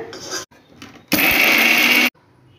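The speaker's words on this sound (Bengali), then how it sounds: "ঠান্ডা হলে গ্রাইন্ডারের মধ্যে দিয়ে দেব তেঁতুল আর এই ভাজাগুলো দুটো একসাথে" A kitchen grinder runs in one loud, steady burst of about a second, grinding tamarind together with fried beetroot, framed by quieter handling sounds before and after.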